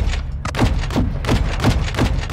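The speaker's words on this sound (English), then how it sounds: "Get rounds on that mortar crew." Repeated heavy thuds of mortar fire in Call of Duty Modern Warfare 2, about six evenly spaced booming impacts at mid distance over a rumbling battlefield bed.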